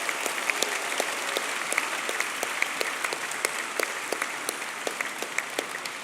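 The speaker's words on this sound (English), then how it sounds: "giving them a big round of applause" A graduation-style white coat ceremony audience claps steadily throughout, a dense wash of many hands with a few sharper nearby claps standing out, loud and continuous with no talking over it.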